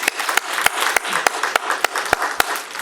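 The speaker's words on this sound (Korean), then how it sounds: "감사와 존경의 마음을 담아 박수로 격려하기 원합니다" A church congregation claps together in thanks to those who prepared the fellowship meal, with dense, steady applause and sharp individual claps cutting through throughout.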